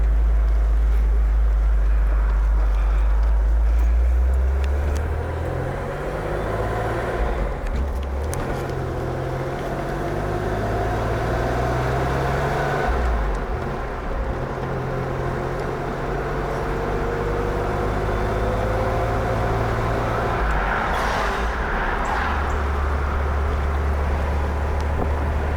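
A 1966 Chevrolet Corvair Corsa with a turbo cruises down the highway, its steady engine drone and low road and wind rumble continuous throughout, with shifting engine tones and no talking.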